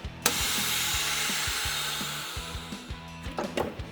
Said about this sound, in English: this guy is gonna allow us to suck all the air out of the bag and keep the liquid in the bag